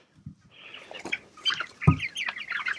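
Chickens on a chicken farm give a scatter of clucks and higher chirping calls close by, fairly quiet and irregular, with a soft thump partway through.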